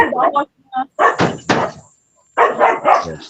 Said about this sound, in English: My dog like to bark.